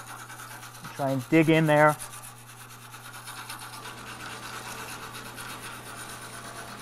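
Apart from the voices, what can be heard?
stainless steel wire brush scrubbing aluminum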